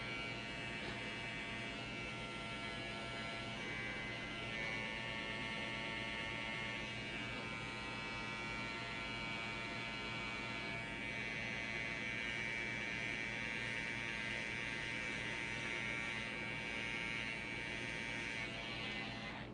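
Hair liners buzz steadily while trimming a mustache, a continuous close electric whine with slight shifts in pitch as the blades move, no voices over it.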